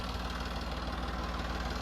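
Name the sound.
tractor engine running while ploughing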